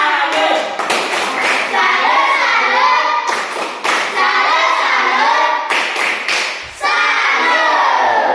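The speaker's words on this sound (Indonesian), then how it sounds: "berikan tepuk salut kepada kelompok 1" A classroom group of students claps hands together in several loud bursts of rhythmic applause, the clapping stopping and restarting a few times with brief pauses between rounds.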